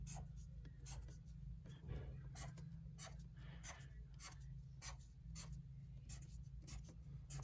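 A marker draws a box on a board in a series of short, squeaky strokes at close range, each separated by brief pauses, over a steady low electrical hum.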